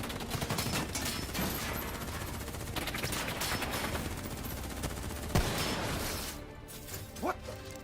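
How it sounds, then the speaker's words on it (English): Bursts of gunfire crackle through an intense Call of Duty: Black Ops III cutscene battle, a dense near-continuous fusillade of close shots with louder cracks and impacts near the end. "Who's shooting?"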